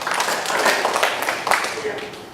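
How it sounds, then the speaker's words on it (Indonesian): Applause from a church congregation during a sermon, a dense wash of clapping lasting a couple of seconds with a voice speaking over it. "Tepuk tangan kita luar biasa."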